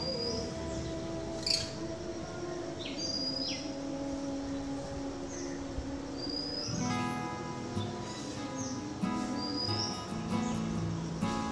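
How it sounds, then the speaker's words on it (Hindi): Birds chirping and calling in short rising tweets over a steady bed of crickets at a quiet Konkan coastal homestay near Anjarle beach, soft and spread around, with no talk. "आप चिड़ियों की आवाज़ वगैरह सुन सकते हैं."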